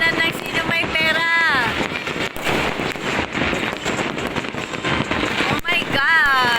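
New Year fireworks crackle and pop in dense, continuous bursts, with excited voices exclaiming over the racket.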